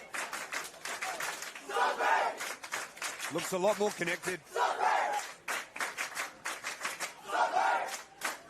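A cheer squad chants and cheers loudly in rhythmic bursts at a football final while a commentator talks over the noise.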